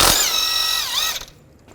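A power tool or impact gun spins the crank pulley bolt off a Chevy Equinox engine with a 21mm socket: a short, high whining burst that pitches down and cuts off, fairly close.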